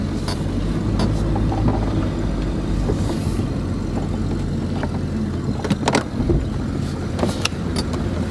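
Jeep engine rumbling steadily during a ride, with road and wind noise throughout and a few clunks and rattles from the vehicle; no voices.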